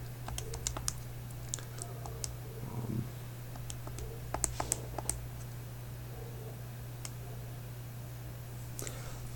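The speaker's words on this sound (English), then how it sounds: "So if I type this on the calculator" Light tapping of keys on a calculator, scattered sparse clicks in irregular short clusters over a steady low electrical hum, quiet and close.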